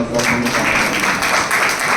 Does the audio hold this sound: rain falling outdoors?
no